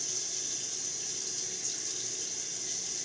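Steady, faint hiss of running water flowing over hair, an unbroken even spray with no talking.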